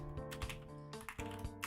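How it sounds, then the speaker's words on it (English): Rapid keystrokes on a computer keyboard, clattering in a dense, steady burst of close clicks with brief pauses, heard alone without talk. "now you can see all my cool typing skills. I'm so talented at typing."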